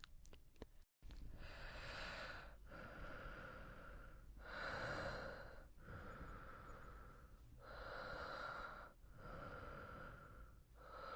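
Heavy, rhythmic breathing up close, with long drawn breaths repeating about every one to two seconds, some with a snorting, raspy edge.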